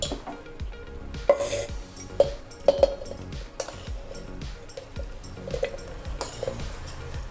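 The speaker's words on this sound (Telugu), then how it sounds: "పుచ్చపండుని ఈ విధంగా చిన్న ముక్కలుగా కట్ చేసి గింజలన్నీ తీసేద్దాము" A knife cuts watermelon into small pieces in a home kitchen, making a run of light clinks, taps and scrapes against a plate or board. The sounds come irregularly and close by, with no voices.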